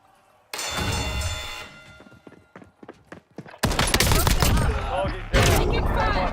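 Heavy incoming gunfire in a military shooter video game, loud dense bursts crackling in several waves, with in-game voices calling out over the shots.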